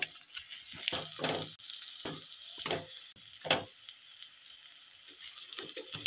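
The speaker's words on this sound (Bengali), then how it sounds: "এবার এটাকে আমি কিছুক্ষণ ধরে ভালোভাবে ভেজে নিব" Egg and elephant foot yam cutlets fry in a pan with a steady, close sizzle, broken by a few scraping, clattering bursts as they are moved and turned.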